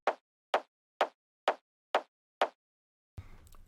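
Six punchy hits from the top layer of a two-layer techno kick drum at an even, steady pace, each short and thumping, followed by a brief burst of noisy sound at the end.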